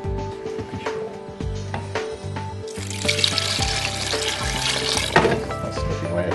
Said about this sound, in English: add enough water to cover the chicken, pretty much.